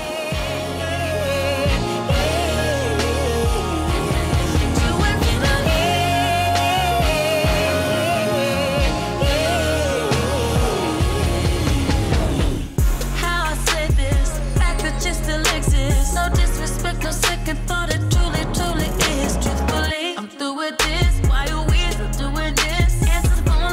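A new pop song playing on radio, continuous music with singing and a full band, loud throughout with a brief dropout near the end.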